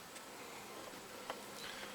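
Honeybees buzz around an open hive during a July beehive inspection, a constant close drone with a few louder passes of individual bees near the listener.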